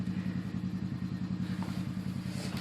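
An 18 hp Kawasaki V-twin engine idles on a quad outdoors in cold weather, a steady low throbbing pulse with an even rhythm, close and continuous with faint clatter over the top.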